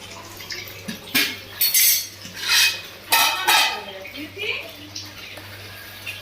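Dishes and cutlery being washed in a home kitchen, with repeated clattering of metal plates and utensils and splashing water in uneven bursts, close by, as people talk nearby.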